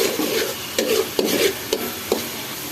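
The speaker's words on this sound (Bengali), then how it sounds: "এখন আমি এখানে 1 চা চামচ পরিমাণ হলুদের গুঁড়ো দিয়ে দিচ্ছি। আমি এটাকে একটু মিশিয়ে নেব।" A spoon stirring turmeric powder into onions frying in oil for a prawn and ash gourd curry, several quick scraping strokes against the pan over a soft, constant sizzle.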